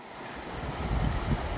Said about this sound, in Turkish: Dere coşuyor, daşıyor.